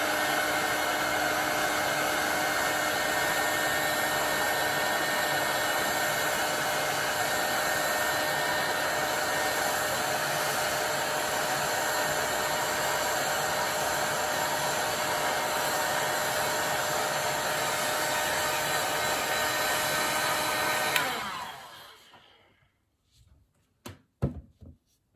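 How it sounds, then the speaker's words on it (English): A heat gun blows hot air to shrink heat-shrink tubing onto a military radio mono audio cable, a loud, constant airy roar for about twenty seconds that cuts off and leaves a few light clicks and handling knocks. "you use the heat gun."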